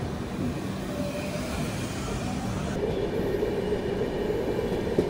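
Indian Railways train rolling steadily past the Gomti Express near a station on the way toward Nizamuddin, a continuous close rumble of wheels and carriages with a brief squeal, no voices.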